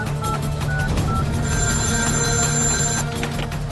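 A telephone bell ringing loudly and continuously, its bright repeated ring filling the whole stretch with no voices over it.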